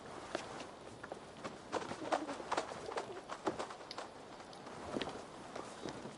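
Pigeons at a coop in Assassin's Creed Valhalla, with soft cooing and bird calls mixed with footsteps, moderately close, in short uneven bursts over a quiet outdoor background.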